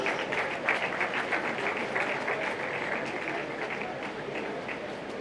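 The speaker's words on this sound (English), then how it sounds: "I think we can give him a bigger round of applause." Steady applause from a large crowd at a fund launch event in Lagos fills the whole stretch, dense and continuous, with a faint murmur of voices beneath the clapping.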